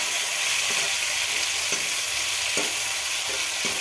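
Sliced onions and green chillies fry in oil, a loud, unbroken sizzle with occasional clicks of a spatula against the pan, close and without speech.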